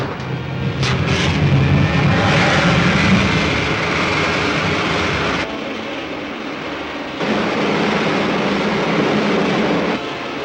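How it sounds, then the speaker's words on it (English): A rocket's main jets fire with a loud, continuous blasting roar that dips partway through and then surges back, close and unbroken, with no voices. "Fire main jets."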